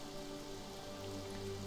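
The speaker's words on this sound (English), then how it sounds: "No, not foggy. Just rainy." Rain falls in the video game Morrowind, a steady, even hiss of drops under a faint low hum, with no voices.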